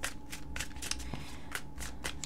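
Tarot cards from a summer holiday deck shuffled by hand in quick repeated riffling bursts, close and fairly soft, with no talking.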